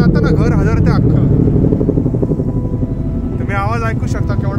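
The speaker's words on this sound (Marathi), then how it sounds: "हे जे हेलिकॉप्टर आहे हे पाण्याचं हेलिकॉप्टर" A firefighting water-dropping helicopter passes low over a house during a Los Angeles wildfire, its heavy, deep rotor rumble loud and constant throughout while a person talks over it.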